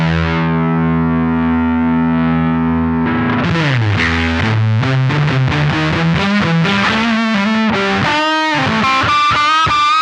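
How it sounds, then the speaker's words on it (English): An electric guitar runs through a Tube Screamer overdrive pedal turned all the way up, giving a gritty, saturated tone: a long sustained chord rings out, then a run of quicker distorted notes and chords follows, loud and close. "Get the tube screamer sound cranked up."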